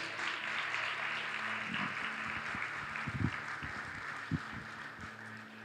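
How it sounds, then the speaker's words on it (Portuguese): A church congregation at a Portuguese-language worship service applauds after a call to praise the Lord, a steady wash of many hands clapping at moderate loudness with a few sharper, louder claps and low thumps mixed in. "Você pode aplaudir o Senhor Jesus?"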